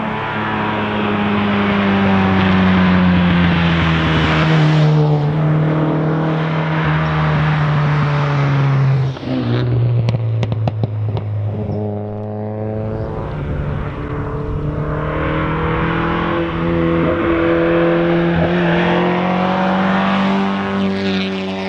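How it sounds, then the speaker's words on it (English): A works MGA Twin Cam sports car engine revs hard while driving on mountain roads, a loud, close, continuous drone rising and falling through gear changes, with a brief dip and shift near the middle before climbing again. "It can handle the revs without any problems."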